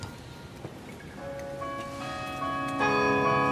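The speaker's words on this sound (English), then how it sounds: "And above us all now, we hear the famous City Hall bells begin to chime." The famous Oslo City Hall bells chime during the Nobel Peace Prize ceremony, their ringing tones entering softly and swelling into a sustained, layered peal over a faint hall murmur.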